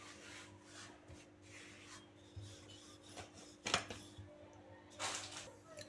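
A rolling pin rubs and scrapes over bajra flatbread dough in soft, uneven strokes, with a couple of sharper knocks against the board and faint talk in the background.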